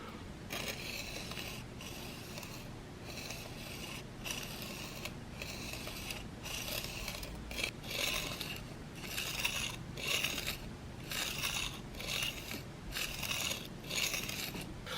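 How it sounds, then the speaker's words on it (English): A broadhead blade is drawn back and forth across a diamond-grit sharpener, giving a series of rhythmic, close-up scraping strokes with short pauses between passes, about fourteen in all, with no talking. "lay the blade on there, and either move the head back and forth or move the diamond grit back and forth."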